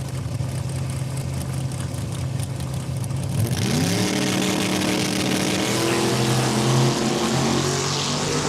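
A 1966 Chevelle drag car at Saskatchewan International Raceway idles loudly at the line, then launches hard, its engine rising into a sustained climbing roar that stays near and loud.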